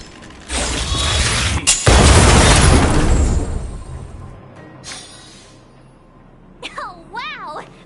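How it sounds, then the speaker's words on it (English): A stealth bomb detonated by an automaton in the Honkai: Star Rail video game, a loud broad explosive roar with mechanical clanks that dies away over a few seconds, followed by quieter game sounds and brief chirpy effects. "We wiped them all out in a single explosion!"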